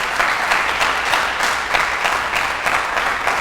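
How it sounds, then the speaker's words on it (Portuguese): A church congregation claps loudly and steadily, a dense, continuous wash of applause from a full room with no voices on top. "Dá um aplauso, olha que maravilha."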